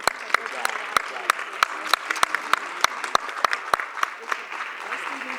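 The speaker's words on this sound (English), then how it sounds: "Another round of applause" Applause from the audience at a Camden City advisory board meeting, a sparse room of people clapping with distinct sharp individual claps standing out over a softer steady patter, fairly close and continuous.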